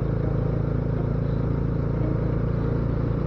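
Engines hum steadily from two motorbikes riding together through Koteshwar, a constant near, low drone with faint rattling and no voices over it.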